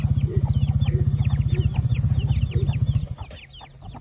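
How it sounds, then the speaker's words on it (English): Black Copper Maran chickens cluck and chatter close by in a farmyard, with a fast, steady low-pitched clucking run that quiets after a few seconds while higher calls continue. "throw it out here for the chickens"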